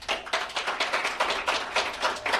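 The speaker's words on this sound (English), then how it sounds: "by round of applause" Live studio audience applauding at a radio show taping, a steady burst of many hands clapping with rhythmic swells, fairly close and with no talk over it.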